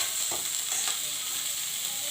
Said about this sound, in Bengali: মেথি শাক ভাজা হয়ে গেছে